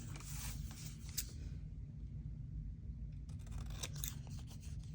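Scissors cut through fabric and paper with quiet, intermittent snips and rustles that stay faint and close.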